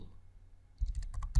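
A computer keyboard is typed on while entering a command-line install: after a stretch of low room hum, a quick run of light, close clicks starts up and ends in a slightly louder tap.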